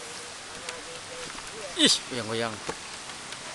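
Rain falls steadily across a village in Loksado, a soft continuous patter beneath brief bursts of nearby speech and a short vocal outburst.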